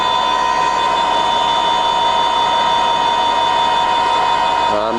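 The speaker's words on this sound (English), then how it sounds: "You can hear in the higher gears where you first start it, you're getting just a split second of belt slip" A Colchester Bantam 2000 centre lathe running in high gear with slight belt slip, giving a loud, steady mechanical whine and hum with strong tonal lines that holds throughout and shifts briefly at the end.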